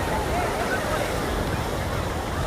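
Ocean surf rolling onto Kovalam Beach near Chennai, a dense continuous wash of breaking waves with wind noise buffeting the microphone, loud and close throughout.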